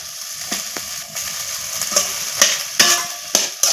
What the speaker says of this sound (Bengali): আলুটা দিয়ে নাড়াচাড়া করে নিয়ে